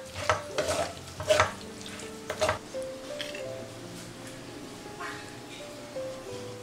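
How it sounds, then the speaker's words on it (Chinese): Vegetables tossed in a wok with Chinese yam noodle rolls, soy sauce and salt, giving soft stirring scrapes and a low sizzle, with a few louder clatters early on and a faint tonal hum in the background. "出锅前加入做好的面卷儿，再翻拌均匀就可以盛出来了"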